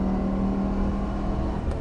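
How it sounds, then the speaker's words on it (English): A small 1986 Citroen GSA engine hums at high revs in a steady drone, fairly loud and close, with a brief surge at the end. "Very high revving engines."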